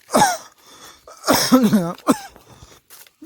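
A few harsh, close coughs in quick bursts, separated by short pauses, with a throaty rasp.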